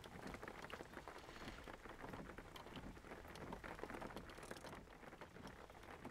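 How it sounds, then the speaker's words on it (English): Steady rain patters densely on a surface in the video game Jalopy, a continuous soft hiss of droplets with no voices. "it's still raining"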